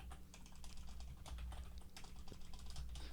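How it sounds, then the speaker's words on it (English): Steady typing on a computer keyboard, rapid light key clicks in an unbroken stream over a low background hum, close and fairly quiet. "let me type that out"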